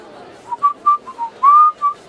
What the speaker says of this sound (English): People be whistling.